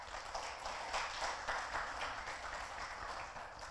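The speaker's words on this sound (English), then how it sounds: "Give the Lord a hand clap of praise." A church congregation clapping in praise on Easter Sunday, a faint but continuous patter of many hands heard from a distance.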